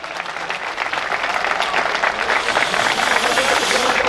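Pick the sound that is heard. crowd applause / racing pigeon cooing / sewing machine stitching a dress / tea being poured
crowd applause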